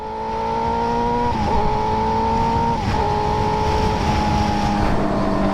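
A motorcycle engine drones loudly at speed on a night ride, with a steady tonal hum that drops abruptly twice in quick clutchless upshifts before the pitch climbs again.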